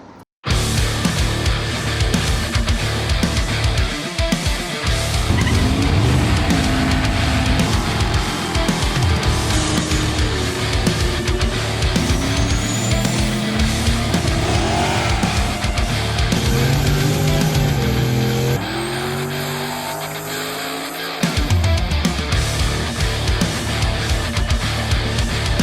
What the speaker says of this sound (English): as you can tell, we got twin turbos